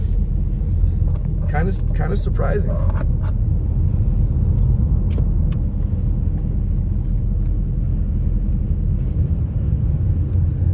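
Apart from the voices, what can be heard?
cars driving on snowy mountain highway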